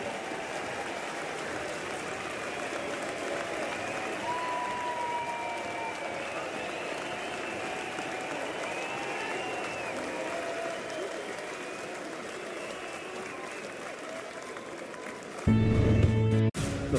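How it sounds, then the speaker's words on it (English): A spring training baseball crowd at Joker Marchant Stadium applauds and cheers in a steady, broad roar, with a brief burst of louder sound near the end. "Listen to this crowd."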